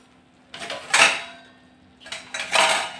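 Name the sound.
stirring spices in a bowl with a spoon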